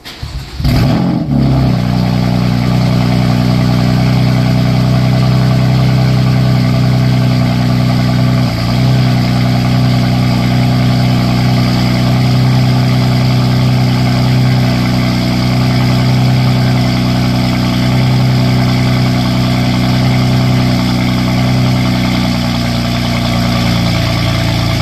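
BMW F80 M3 with the S55 engine running steadily, its raspy exhaust droning close and loud for the whole stretch after a brief start, with a slight blip partway through and no talk.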